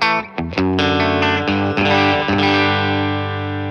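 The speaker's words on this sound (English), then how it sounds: "I'm putting it through a Fender Deluxe Reverb Tonemaster with the 57 sim" A distorted electric guitar, a T-style flame maple and chambered alder body through a Fender Deluxe Reverb Tonemaster with 57 mic simulation, plays a short run of picked notes, then lets a thick chord ring out and sustain.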